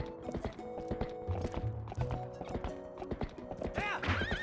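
Horse hooves clip-clop in The Legend of Zelda: Twilight Princess HD, a steady trotting patter mixed with game music and effects.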